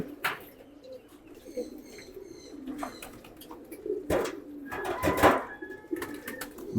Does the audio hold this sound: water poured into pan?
no